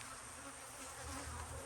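Honey bees buzz in a hive infested with small hive beetles, giving a low, steady, faint drone that holds evenly without a break.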